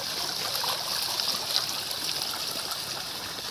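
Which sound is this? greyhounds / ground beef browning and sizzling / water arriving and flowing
water arriving and flowing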